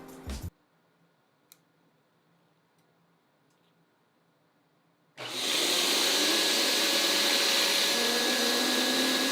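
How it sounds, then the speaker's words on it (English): An electric air pump for an inflatable air track used for flips switches on abruptly after a quiet stretch and a brief clatter, then runs as a loud, steady whirring roar close by until the end. "This is an air pump that I have for my air track that I do flips on."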